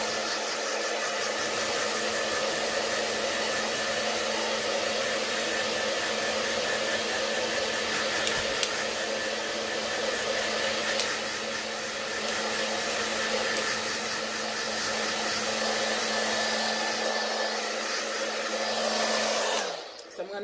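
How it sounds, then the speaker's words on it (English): A blow dryer drying hair runs continuously at close range, a steady loud whooshing hum with a fixed motor whine, cutting off abruptly at the very end. "So I'm going to continue to blow dry her"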